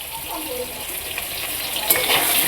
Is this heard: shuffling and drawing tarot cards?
no